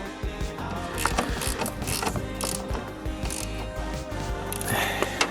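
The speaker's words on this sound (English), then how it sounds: "It's a 10mm socket in the head, but it's only 6mm, so don't over tighten it" A ratchet drives a 10 mm socket on the front headlight of a Hyundai i30 1.6 CRDI, producing rapid, close, continuous clicking with small metallic knocks throughout.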